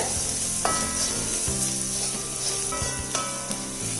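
Sliced onions sauté in a pan with a pinch of turmeric powder for a Kerala colocasia leaf thoran, giving a steady soft sizzle with occasional scraping and stirring clinks from a utensil.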